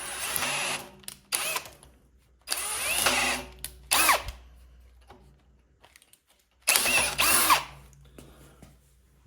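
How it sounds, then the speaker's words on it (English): A power drill drilling stainless steel runs in several bursts, whining at moderate speed with short pauses between, close by and alone with no talking. "Notice that I'm not drilling at high speed."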